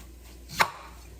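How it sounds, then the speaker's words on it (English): A single crisp knife chop strikes a cutting board, short and close, in an otherwise quiet room. "in order to cut it up into a dice"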